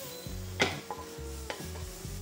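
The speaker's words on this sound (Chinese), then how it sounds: "我们就马上把配料放下去炒" Seasoning ingredients are stir-fried in a wok over high heat, the spatula scraping and clanking against the metal in quick, uneven strokes over a low steady sizzle.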